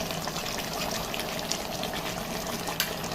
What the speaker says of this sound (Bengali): খুব সুন্দর করে ফুটছে।